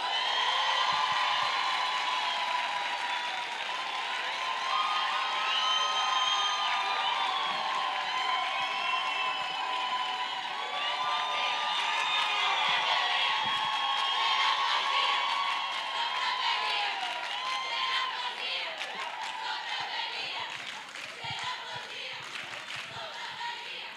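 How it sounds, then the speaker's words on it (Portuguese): A large symposium audience applauds and cheers steadily, a dense wash of clapping with shouts and whoops. The sound stays loud and continuous for most of the stretch, then eases slightly near the end. "Eu queria que vocês dessem uma salva de palmas para Juliana Quevedo."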